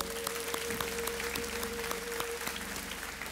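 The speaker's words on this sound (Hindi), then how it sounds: "a big hand once again for Mitali" A studio audience on a Mother's Day special TV show applauds the contestant Mitali with a steady, dense wash of clapping, fairly quiet and even throughout, over a faint steady hum with no voices.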